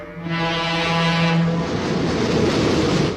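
A passing train sounds a long, loud horn blast, then its wagons rumble and clatter by at close range in a broad, steady roar with no talking.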